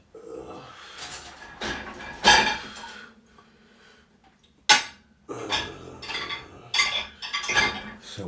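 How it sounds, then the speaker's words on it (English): Dishes being washed by hand in the early morning: clinking plates, cutlery and pots with irregular bursts of clatter and splashing, separated by short quiet gaps. "Nothing like doing dishes at 4 o'clock in the morning"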